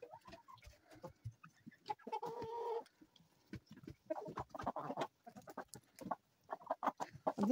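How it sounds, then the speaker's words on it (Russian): Domestic hens on a home farmstead cluck in short, soft bursts that come and go irregularly over several seconds, close by in a quiet yard, with one longer drawn-out call. "Домашняя курочка."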